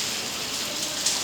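Heavy rain that has poured since the night before hisses as a steady, dense wash of noise, constant and unbroken, with no voices.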